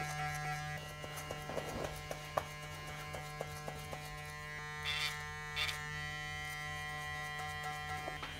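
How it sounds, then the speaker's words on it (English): Electric hair clippers buzz steadily and close up while cutting a taper haircut on the back and sides, a constant humming drone with slight changes in pitch and a few soft clicks as they move through the hair. "I'm just gonna blend this clipper work in"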